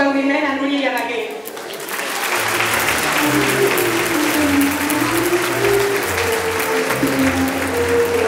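Strong audience applause for two women at a student comparsa presentation, a dense continuous crowd clapping that swells after a brief lull while a voice and music carry on underneath.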